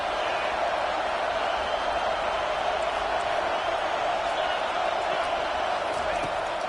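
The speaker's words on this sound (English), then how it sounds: "This crowd trying to make life miserable for this offense." Stadium crowd at a Virginia Tech vs Baylor college football game roars in a steady, dense wall of noise, with a commentator talking over it throughout.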